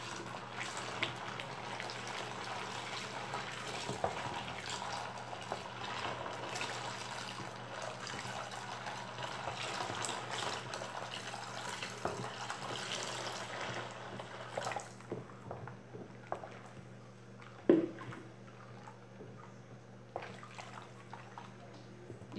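Two litres of room-temperature water poured into a batch of homemade tangerine dish detergent, a steady continuous splashing pour for about fifteen seconds, then tapering into scattered drips and a short clunk.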